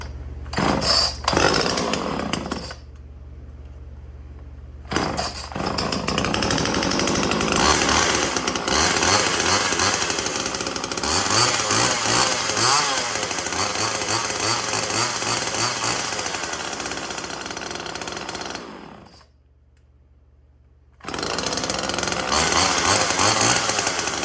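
Chainsaws, a 455 and an MS-291, run loud and close at a steady high-revving drone. The engine cuts out briefly a couple of times, including a near-silent gap late on, before roaring back.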